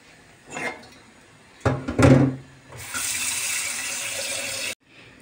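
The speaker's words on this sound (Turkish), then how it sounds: "Az bir su daha ilave edeceğim." Water pours from a tap into a cooking pot in a steady rushing stream lasting under two seconds, after a few clunks and bumps of handling, then cuts off.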